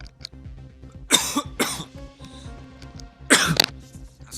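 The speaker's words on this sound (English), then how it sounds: "I'm coughing a little bit." A man coughs close to the mic, four sharp dry coughs in two quick pairs with a pause between, over quiet background game music.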